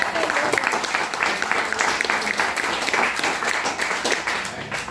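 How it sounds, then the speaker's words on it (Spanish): A church congregation applauding during a worship service, dense continuous clapping from a large crowd filling the room, loud and sustained, with voices blended into the noise. "Den un aplauso al Señor."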